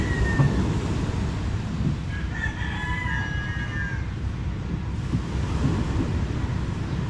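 Steady sea waves and wind roar continuously at a beach, loud and close, with a rooster crowing faintly in the background partway through.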